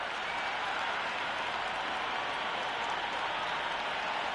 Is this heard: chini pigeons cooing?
no